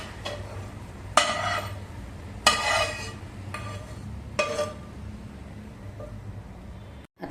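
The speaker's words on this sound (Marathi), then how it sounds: "आता आपण आधी हाताने हे पीठ चांगलं मिक्स करून घेऊया" Fenugreek paratha dough made with yogurt is kneaded and mixed by hand in a bowl: a few separate squishing, rustling bursts spaced a second or so apart, close and moderately loud, with quiet between them.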